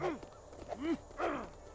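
A horse in the video game LEGO Worlds makes several short, curving, voice-like snorts and whinnies, spaced apart and moderately loud over a quiet background.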